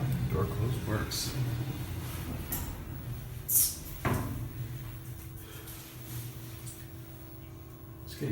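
An Otis Series 5 hydraulic elevator door slides shut with a soft rumble and a couple of dull knocks, set against a steady machine hum in a quiet lobby.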